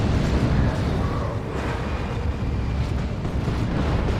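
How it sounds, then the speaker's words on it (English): Rocket run strike in Warhammer 40,000: Dawn of War 2, a dense, continuous rumble of explosions with heavy low-end booming that stays loud throughout. "Rocket run again."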